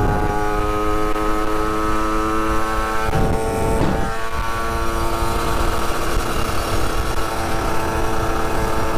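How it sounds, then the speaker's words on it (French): A motorcycle engine drones steadily while riding between lanes of congested traffic, loud and close with a whooshing pass of wind or a vehicle midway, no speech. "je suis en moto, je peux bien passer entre les deux."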